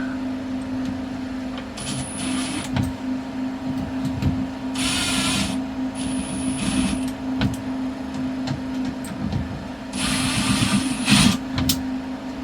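Screws are being driven into a vacuum toilet fitting aboard a sailboat, with several short bursts from a power driver separated by pauses, over a steady background hum.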